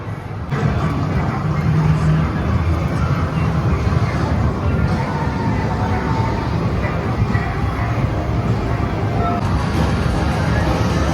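Loud, steady arcade racing game in a large mall game zone, its engine-like roar and rumble running continuously under a busy crowd babble.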